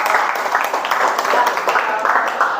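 A classroom group of students claps for group four after a tournament game, steady broadband applause filling the whole moment, fairly loud and continuous with no break.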